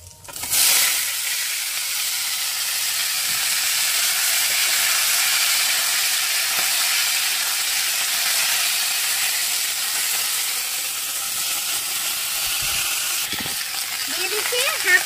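Washed vegetables sizzle steadily in hot mustard oil with dried chilli and five-spice seeds, a loud continuous frying hiss that starts abruptly and holds close throughout, with faint stirring scrapes near the end.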